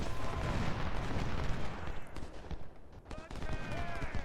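Artillery and gunfire in the Civil War strategy game Ultimate General: Civil War, a dense, continuous rumble of booms and shots filling the whole stretch, loud and close, with a brief dip near the end before the barrage swells again.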